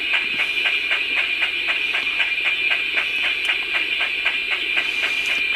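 A steady hissing injector sound from an OO9 narrow-gauge Bachmann Baldwin model steam locomotive fitted with sound, under a fast, regular chuffing beat that continues evenly from start to finish.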